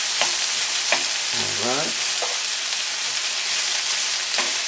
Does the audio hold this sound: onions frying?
yes